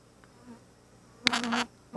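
Honeybees buzz around a Flow Hive on a hot, humid day, with a faint distant hum and then one loud bee droning close past for about half a second.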